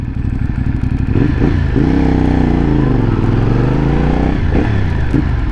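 A CF Moto 450NK motorcycle engine runs close by, a loud steady rumble that dips and rises slightly in pitch as it idles and revs gently.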